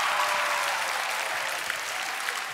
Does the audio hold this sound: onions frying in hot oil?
no